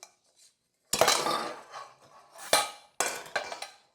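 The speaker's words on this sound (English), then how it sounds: "I have a lovely crispy kind of oat flaxseed base. I'm just going to demold that now." An oat and flaxseed tart base being demolded from its baking tin, with several loud metallic clanks and clatters in separate bursts, close and with no voices.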